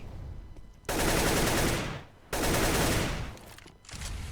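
Rapid automatic gunfire from a CS:GO pro league match rips out in two long, loud sustained bursts separated by a short pause, followed by a softer trailing burst.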